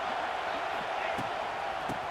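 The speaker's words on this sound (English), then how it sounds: "Listen to this crowd just shaking the girders of this place," A stadium crowd roaring during a College Football 26 game, a steady dense wall of cheering with a few faint thumps and an announcer's voice partly under it.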